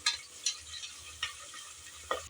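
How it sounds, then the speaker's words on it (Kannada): Food frying in a pan for tomato biryani, with a quiet sizzle under a few sharp, scattered scrapes and clinks of stirring close by. "ನೋಡಿ, ಇಷ್ಟು ಫ್ರೈ ಆದರೆ ಸಾಕು."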